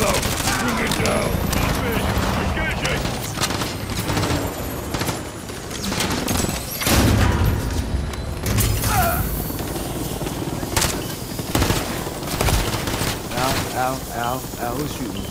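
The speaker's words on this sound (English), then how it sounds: "Ow, who's shooting?" Sustained automatic gunfire and explosions in the Call of Duty: Modern Warfare 3 mission Pass Gas, with rotor-like drone, loud and continuous throughout 15 seconds, with voices speaking over the battle.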